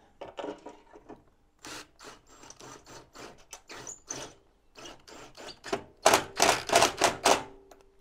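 An impact driver fitted with a Torx bit drives a screw into a steel door, giving bursts of rapid hammering clatter, first lighter then louder and denser near the end, with short pauses between runs.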